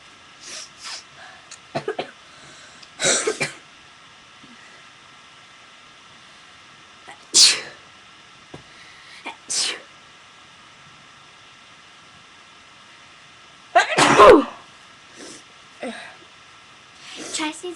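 A person sneezes several times, with sharp bursts spread across the stretch and quiet gaps between them, while friends talk nearby.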